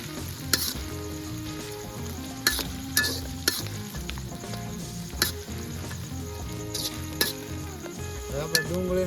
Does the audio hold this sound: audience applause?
no